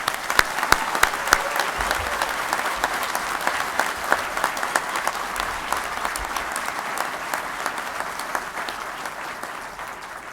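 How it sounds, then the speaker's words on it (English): Sustained applause from a commencement audience congratulating engineering graduates at Colorado State University, with dense, steady clapping across the hall that holds its level throughout, with no speech over it. "Please join me in a round of applause in congratulating these students on"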